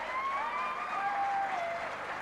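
Crowd at a Gaelic football senior championship match between Bishopstown and Nemo Rangers applauds in a steady distant wash, with a commentator's voice running over it.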